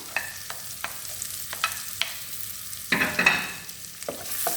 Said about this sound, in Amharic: ሽንኩርት እጨምራለሁ።